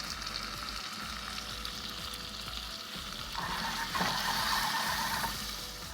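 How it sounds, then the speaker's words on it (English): Onions sautéing in a pan, a steady soft sizzle and crackle that swells a little louder toward the end, with faint stirring noises and no talking. "Can you hear that sizzling?"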